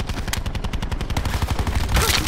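Rapid video game gunshots in quick, rhythmic bursts, loud and close, with a heavier blast near the end and no speech over them.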